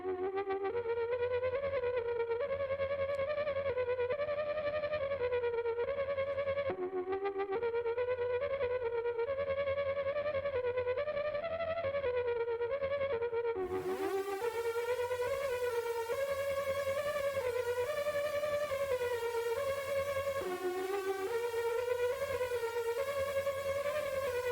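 A spooky, wonky synth track built in Ableton plays continuously with wavering, pitch-bending tones over a steady low drone, soaked in effects and echo. It brightens partway through and carries on alone at an even level.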